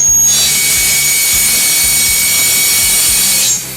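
A power drill with a blunt bit grinds steadily against a hard surface without boring in, a loud continuous high-pitched whine and buzz pressed at full force for several seconds before cutting off, with no talking.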